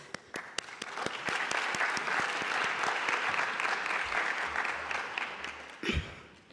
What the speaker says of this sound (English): you all deserve a big applause